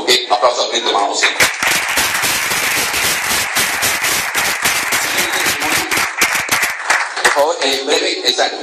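Congregation applause at a Christian healing and deliverance service, dense rapid clapping that fills the room for most of the stretch, loud and close, tapering near the end.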